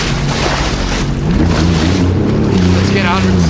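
A 2020 Sea-Doo Fish Pro 170 jet ski, 170 horsepower, running on the ocean, its engine droning loud and close amid wind and water noise, with a voice talking over it.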